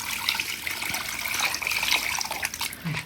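Water splashes and gushes continuously as pork meat is rinsed in a bowl for a village-style recipe, a close, busy, uneven sloshing with no speech.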